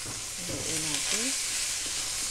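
Kangkong frying in a pan, giving a steady hiss and sizzle as it is stirred, with faint voice-like tones briefly rising over the noise.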